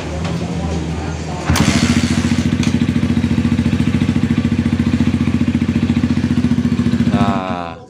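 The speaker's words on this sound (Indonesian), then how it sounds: "ini ya bro, kondisi motornya ya. Sekarang saya mau coba nyalain apakah dia seperti tadi yang saya bilang atau tidak" A motorcycle with a suspected piston fault is started: a short cranking churn, then a sudden catch into a loud, close, rapidly pulsing idle that holds steadily before cutting off.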